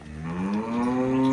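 A cross-breed dairy cow moos once in a long, rising call that swells steadily louder toward the end, close by and alone with no talk.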